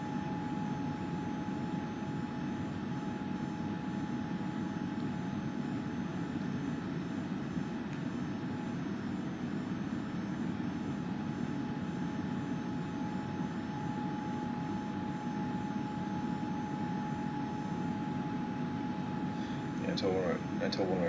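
Jet airliner engines cruise at about Mach 0.70 near flight level 224 in the X-Plane 11 flight simulator, giving a steady, unbroken cabin drone with a faint constant tone that stays level from start to finish.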